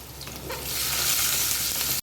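Whole baby onions tipped into hot oil with garlic and asafoetida sizzle and fry loudly, a close, steady hiss that rises and holds as they are stirred.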